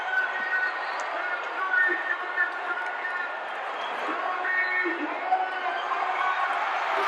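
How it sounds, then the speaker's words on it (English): A wrestling crowd roaring on its feet at the Sam Houston Coliseum in Houston: a dense, steady wash of cheering and shouting with small swells, under a commentator's voice. "This tremendous crowd at the Sam Houston Coliseum, on their feet, roaring."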